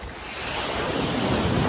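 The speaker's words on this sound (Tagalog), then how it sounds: "tunog ng dagat." Sea waves wash up on the beach at Calatagan, Batangas, a broad surging roar that swells louder over a couple of seconds, mixed with gusty wind buffeting the microphone.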